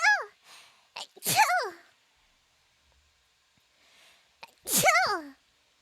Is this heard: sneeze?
yes